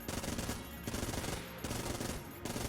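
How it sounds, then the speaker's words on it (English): A laser Vulcan cannon in the Enter the Gungeon video game fires in rapid bursts, three dense rattling volleys separated by brief pauses, loud and with no talk. "I do kind of like this weird gauze laser Vulcan cannon, though."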